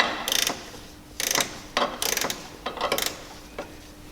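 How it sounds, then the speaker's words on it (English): A hand ratchet tightens a bolt on a JL hood latch fitted to a Jeep Wrangler JK, clicking in quick rapid bursts of several strokes, close and crisp, with short pauses between bursts and no talking. "I'm going to start ratcheting"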